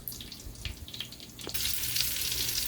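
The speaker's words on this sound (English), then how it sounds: "right now I'm just finishing up frying the fried kimchi to heat it up a bit" Leftover fried kimchi reheats in a pan. Quiet scraping and clatter give way to a loud, steady, close-up sizzle that fills the second half.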